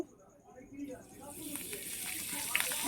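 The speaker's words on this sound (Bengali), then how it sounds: "কারি পাতা দুটো ভেজে নেব" Curry leaves frying in oil over a low flame, a soft sizzle and hiss that swells from near silence into a steady crackling spatter, close by.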